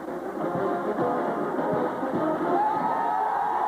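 Stadium crowd at a 1990 Ohio State home football game against USC, a steady, broad roar of thousands of fans cheering and yelling that holds throughout without letting up.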